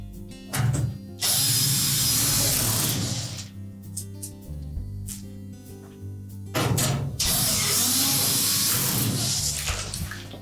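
A power drill drives screws into a Whirlpool washer during a spring replacement, two loud whirring bursts of several seconds each separated by quieter handling and clicks, close up.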